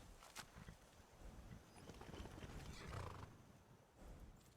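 A horse in the video game Skyrim whinnies, with clip-clopping hooves and faint game ambience around it; the sound is fairly quiet overall.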